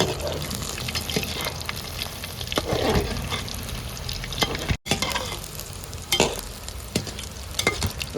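Crispy chicken pakoda frying in hot oil while a spoon stirs through it, a bubbling sizzle broken by scraping strokes and clinks, close and moderately loud, without speech.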